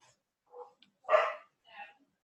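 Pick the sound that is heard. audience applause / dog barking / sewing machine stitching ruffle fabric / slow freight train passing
dog barking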